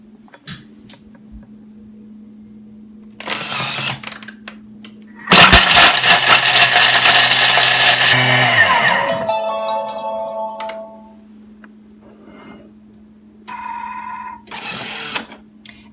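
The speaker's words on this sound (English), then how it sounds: "So now we are going to grate the Parmesans, 10 seconds, speed 9." A Thermomix grates Parmesan cheese at speed 9, bursting into a loud, harsh whirring grind for a few seconds before the motor winds down and stops. Quieter mechanical clicks and hums come before and after.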